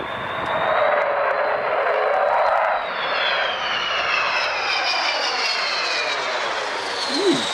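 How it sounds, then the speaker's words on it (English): Avro Vulcan bomber jet engines roar in a sustained, loud pass overhead, a broad rushing drone with rising whine tones as the aircraft moves, with no voices over it. "Avro-Vulcan."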